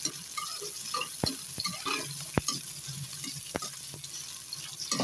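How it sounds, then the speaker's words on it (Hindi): Onions frying and being stirred in a pan after the brinjals were taken out, a steady soft sizzle with a few sharp utensil taps and scrapes against the pan, close and moderately loud, no talking. "अब इसमें प्याज को शामिल करके भून लेंगे"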